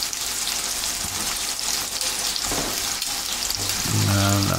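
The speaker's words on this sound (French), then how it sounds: "Hop, on fait revenir tout ça." Courgettes sauté in a wide frying pan, a steady close sizzle with some stirring, with a brief louder burst near the end.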